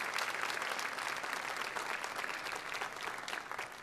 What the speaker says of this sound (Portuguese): Vamos dar uma salva de palmas à palavra de Deus.